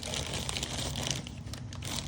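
A plastic bag holding a new Honda AC compressor clutch crinkles and rustles continuously at close range, with a few louder crackles.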